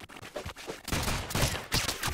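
Gunfire from the video game Rounds, made of rapid bursts of shots that grow louder and denser partway through, with repeated sharp cracks and no speech.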